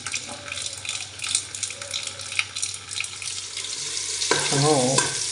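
Tap water runs steadily over mutton as it is washed in a sink, a continuous splashing hiss with sloshing and handling noises, growing a little louder near the end.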